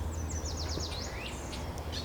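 A bird sings a quick series of thin, sliding whistles close by, repeated rapidly over a steady low background rumble.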